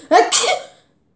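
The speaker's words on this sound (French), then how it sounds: "vous allez faire semblant d'éternuer" A single short, sharp sneeze-like burst, close and loud, followed by silence; it sounds staged rather than natural.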